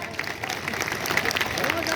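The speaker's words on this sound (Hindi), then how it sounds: "ताली बजाओ जोर से" A crowd at an outdoor political rally claps loudly and continuously, dense applause mixed with crowd noise and some voices.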